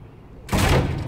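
A locked door in the video game Quantum Break being tried: after a quiet moment comes one loud, sudden rattling thud that carries on as a dense clatter to the end.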